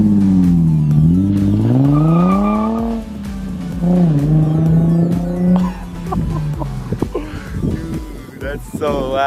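A Nissan 350Z with a very loud aftermarket exhaust drives past, its deep droning note rising and falling with the revs and crackling toward the end, with voices over it.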